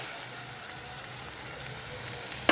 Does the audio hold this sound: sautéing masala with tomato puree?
yes